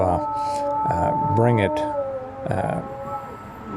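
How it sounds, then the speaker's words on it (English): A dog howls in long wavering tones over a steady siren-like wail, rising and falling in several drawn-out howls, with human talk mixed in. "kind of howls like this when he hears a siren."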